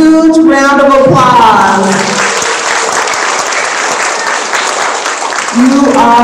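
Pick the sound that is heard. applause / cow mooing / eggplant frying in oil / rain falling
applause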